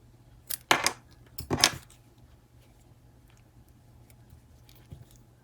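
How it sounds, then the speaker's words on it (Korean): Two quick, close snips of scissors cutting crochet yarn in succession, then near silence with a faint click at the end. "그리고 위에 있는 실도 잘라 주세요."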